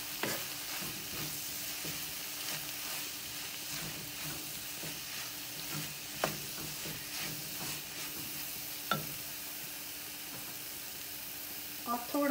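Green beans sabji with garam masala and salt is stirred in a pan, giving a soft steady sizzle with scraping stirs and a few sharper utensil knocks.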